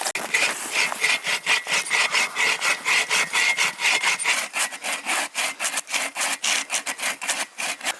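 A hand saw cuts firewood in a snowy forest during -34° winter camping in Temagami, with steady, rhythmic back-and-forth strokes close by that quicken toward the end.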